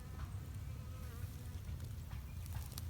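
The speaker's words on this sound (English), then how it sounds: "There are bees buzzing everywhere." Bees pollinate a field of flowering sweet potatoes on a Jamaican farm. Their soft, continuous buzzing hums at a low level, with no talking over it.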